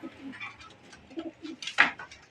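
Pigeons in a breeding coop with paired birds and nests holding eggs give soft, low cooing calls in several short phrases, close by and moderately quiet, with a sharper flutter or call near the end.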